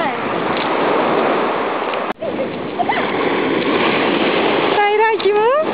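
Sea waves wash steadily onto a beach, a loud continuous hiss of surf and splashing water. A sharp knock sounds partway through, and a voice calls out near the end.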